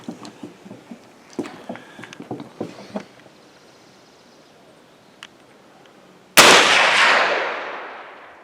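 A rifle firing 25-20 ammunition outdoors gives one loud, sharp report with a long decaying tail. Before it come several light clicks and knocks of handling the gun.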